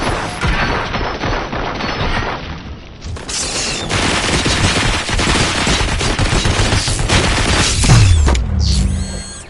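Sustained rapid gunfire from the Robocop Rogue City video game, a dense, loud fusillade with mechanical clatter running nearly the whole stretch, briefly easing before a sharp swell near the end.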